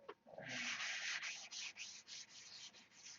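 Steady back-and-forth scraping of sandpaper on model airplane parts, a string of rhythmic hissing strokes close up, with no voices.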